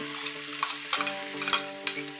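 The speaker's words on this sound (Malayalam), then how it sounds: "സവാള പകുതി വഴന്ന് വന്നിട്ടുണ്ട്. ഇനി നമുക്കിതിലേക്ക് നമ്മൾ അരച്ച് വെച്ച ഇഞ്ചി വെളുത്തുള്ളി പേസ്റ്റ് ചേർത്ത് കൊടുക്കാം." A pan of onion and ginger-garlic paste sizzles while a spoon stirs and scrapes, clacking against the metal in several sharp knocks.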